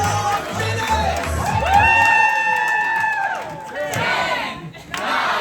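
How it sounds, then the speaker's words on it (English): Crowd cheering and whooping at a surf club endurance challenge in Coogee, loud and close, with rising shouts and sustained yells from many voices at once, then a brief dip and more cheering. "Can we give them a big cheer for 10 more minutes?"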